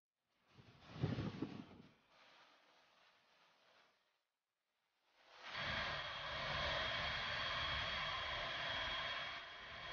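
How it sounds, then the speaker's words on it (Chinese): Military training airplane engine whining and revving on the runway before takeoff, a surge early, a brief lull, then a loud steady roar that holds to the end. "56继续起飞。"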